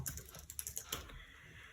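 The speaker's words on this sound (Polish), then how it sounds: "Klikamy na klawiaturze literkę T i wpisujemy" A brief burst of typing on a computer keyboard: several quick, close key clicks followed by a quiet pause, with no voices.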